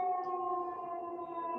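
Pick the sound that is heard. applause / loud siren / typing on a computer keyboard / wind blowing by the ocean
loud siren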